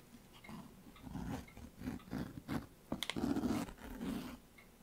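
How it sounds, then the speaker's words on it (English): A zipper on a Bible cover is pulled open in several short, close ratcheting bursts, with a longer run of zipping near the end. "That was me unzipping the Bible."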